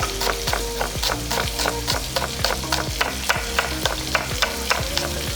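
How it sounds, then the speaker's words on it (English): Salmon fries in a pan with a steady close sizzle and bubbling, overlaid by a regular series of sharp knocks, like scallions being sliced into rounds on a board beside the pan. No one speaks. "You can see the salmon is slowly starting to kind of bubble around the edges"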